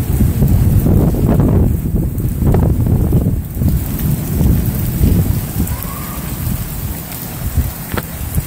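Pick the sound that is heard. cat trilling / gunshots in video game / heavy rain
heavy rain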